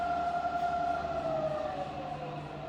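A Bridgeport variable-speed milling machine runs with a steady, fairly quiet motor whine and hum whose pitch sags slightly as the speed changes, continuous and close with no talking.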